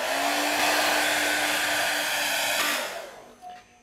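Hair dryer blowing steadily at close range to set a stippled latex coat on skin for a witch makeup, a continuous loud whoosh that cuts off near the end.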